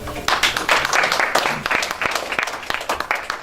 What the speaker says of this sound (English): just wanted to give a round of applause to both of them